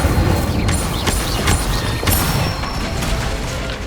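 The Incendio fire spell cast in Hogwarts Legacy, loud whooshing bursts of flame repeating about every half second over a steady roaring, rumbling background, with sharp crackling flares near the start and midway.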